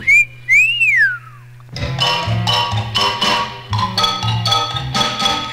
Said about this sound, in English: which made poor Simon whistle